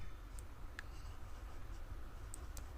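Pen or pencil writing numbers on paper, faint scratchy strokes with a few light ticks over a low steady background.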